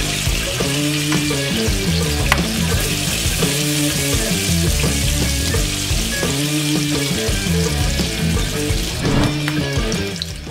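Milkfish (bangus) fries in hot oil with a steady, loud sizzle that never lets up, broken now and then by clinks and scrapes as the fish is turned over in the pan.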